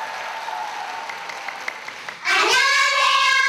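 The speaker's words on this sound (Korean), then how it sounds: "여러분 뜨거운 박수 부탁드립니다." An audience at a national youth science song contest breaks into loud, sustained applause for an elementary school children's choir taking the stage, following a quieter stretch of announcer talk.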